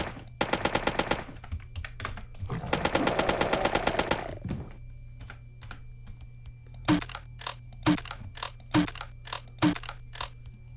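A rapid-firing semi-automatic shotgun in the video game Doom fires in two long, fast bursts of close, punchy blasts, then a slower series of single spaced shots.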